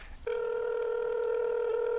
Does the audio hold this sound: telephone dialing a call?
yes